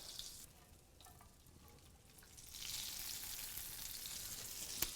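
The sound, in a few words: eggs frying in melted butter in a frying pan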